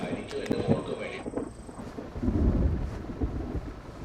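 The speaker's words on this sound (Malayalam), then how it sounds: "പുറത്ത് ഇടിയും മിന്നലും കണ്ടില്ലേ?" Thunder rumbles outside during a storm, a low deep roll swelling midway after some indoor sounds, moderately loud and distant.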